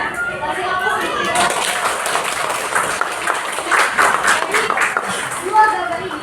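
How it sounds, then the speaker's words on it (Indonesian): A classroom group claps during a biology teaching session, a steady patter of applause lasting several seconds with voices talking over and under it. "Kasih aplaus."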